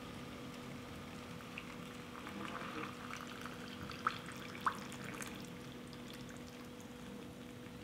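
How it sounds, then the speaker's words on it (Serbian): Boiling water bubbles and hisses quietly in a kitchen before being poured into glass jars, a soft steady liquid rumble with a couple of small sharp clinks. "Voda je proključala i sada ću napuniti tegle."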